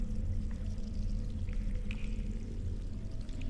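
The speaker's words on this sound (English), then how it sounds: "Something is walking through the water." Something wades through water in the video game Witchblood, a continuous low sloshing and pouring wash with faint drips, steady and fairly close, with no talk over it.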